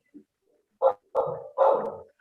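A dog barks three times in short, loud bursts, the second and third longer and harsher, after a soft yip, heard indoors with no one talking.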